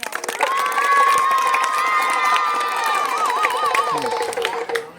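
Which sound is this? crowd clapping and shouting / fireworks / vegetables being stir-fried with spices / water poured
crowd clapping and shouting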